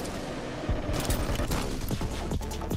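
Rapid gunfire at vampires in the video game Redfall, with dense overlapping shots and mechanical clatter, loud and close, in a continuous chaotic barrage.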